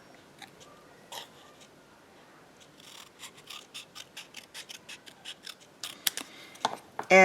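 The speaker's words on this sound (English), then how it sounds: "I want to cut this in half" Scissors snip through card for a handmade easel card, a run of quick crisp cuts that start sparse and grow into a steady rhythm of close clicks, louder toward the end.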